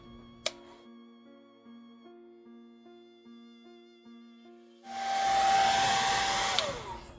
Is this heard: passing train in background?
no